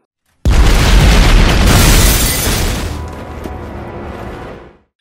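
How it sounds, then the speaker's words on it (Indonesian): A bomb detonates in a building during a police search in a film scene: a sudden loud blast with a deep boom that rumbles on and fades over several seconds. "tiba-tiba bom meledak dan menewaskan beberapa orang"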